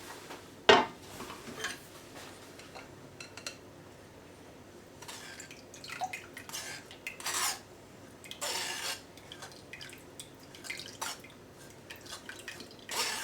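Gravy being pressed hard through a strainer to drain out the spices for an Avadhi biryani, with a sharp knock early on, then intermittent wet rubbing and scraping strokes, quiet and close.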